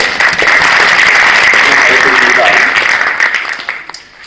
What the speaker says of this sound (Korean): 우리 한번 박수로 감사해 드립니다.